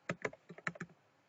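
Brief burst of computer keyboard typing, about six quick, quiet keystrokes close by with no talking.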